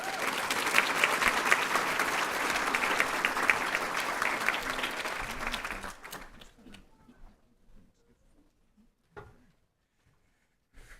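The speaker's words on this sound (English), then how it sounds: "So let's give her a round of applause." An audience at a graduation ceremony applauds for an award winner, full clapping for about six seconds that then fades quickly into a quiet hall with a few stray sounds.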